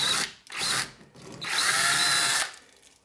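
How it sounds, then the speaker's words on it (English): A power drill bores holes into a plaster wall, with two short whining bursts followed by a longer sustained run, close and loud, then winding down. "I do have to drill some new holes"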